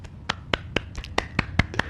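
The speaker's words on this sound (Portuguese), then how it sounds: "Eu também aplaudo" A single person clapping hands about eight times at a steady, even pace, each clap sharp and close in a quiet room.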